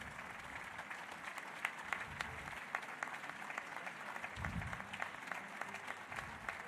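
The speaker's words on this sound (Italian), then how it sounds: "Volevo fare un grande applauso per loro." Applause at an outdoor opera evening in Sarzana honouring healthcare workers, steady scattered clapping from a crowd at moderate distance, continuing evenly throughout.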